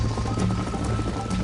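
Rapid hoofbeats of a galloping horse in the video game Red Dead Redemption thud along steadily under a low background hum.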